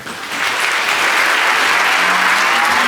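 Audience applause welcoming journalist David Fahrenthold to a talk in Ann Arbor, a dense, steady wash of clapping from many hands that swells quickly and holds loud throughout.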